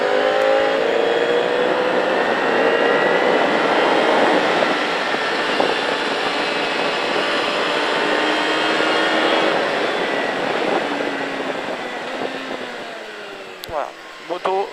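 A motorcycle laps the Pau Arnos race track, its engine note climbing and falling through gear changes and braking for corners; loud and continuous, with wind rush, fading near the end.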